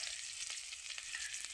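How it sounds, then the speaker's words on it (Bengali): Onion sizzles in hot oil with cumin seeds in a pan, giving a brief, steady, fairly faint crackle with soft clicks of stirring. "পেঁয়াজটা দিয়ে দিলাম তেলের ভিতরে"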